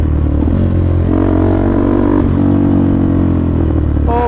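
A KTM Duke 390 motorcycle fitted with an Akrapovic exhaust gives a loud, close engine rumble that rises briefly in pitch as it revs and then settles back to idle.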